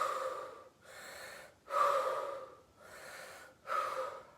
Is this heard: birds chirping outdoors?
no